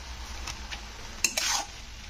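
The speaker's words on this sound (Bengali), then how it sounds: "তো দিয়ে এবারে শাকটাকে একটু নাড়াচাড়া করে দিচ্ছি ওপর নিচ করে।" Bottle gourd greens with salt and turmeric are turned over in a pan, giving a few quiet scrapes and one brief clatter over a faint background hiss.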